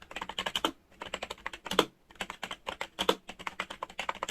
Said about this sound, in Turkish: Bunlarda beyaz switch var arkadaşlar. Yani bu klavye membran bir klavye.